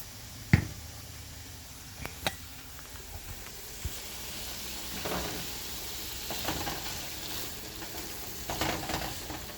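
Sausage frying in butter with Parmesan in a pan, a soft continuous sizzle and hiss with scattered stirring clicks and scrapes, fairly quiet and close, no talking.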